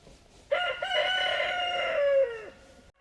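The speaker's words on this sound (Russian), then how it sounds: "Курочки, петухи там собрались" A single rooster crows loudly nearby, a long drawn-out call lasting about two seconds, with faint background quiet around it.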